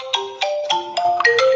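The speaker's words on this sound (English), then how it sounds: "Sorry, that was my phone." A mobile phone ringtone plays loud and close, a bright melodic series of about six quick tones with no talking over it.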